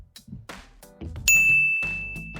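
A bright bell ding rings out once after a stretch of short clattering knocks, its clear metallic tone sustaining and slowly decaying for over a second.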